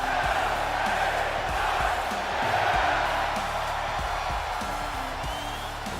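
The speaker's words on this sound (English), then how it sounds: "this crowd showing its support for LA Knight here tonight" An arena crowd in the wrestling video game WWE 2K24 cheers and roars steadily for LA Knight, a continuous loud wash with occasional whoops and thuds, while commentary talks over it.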